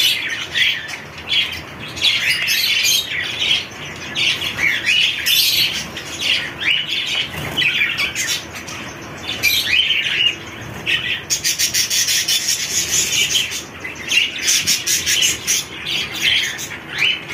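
Java sparrow chicks chirp and squawk in a busy, continuous chorus of high, shrill calls during feeding in a home colony, with occasional wing flutters and no talk over them.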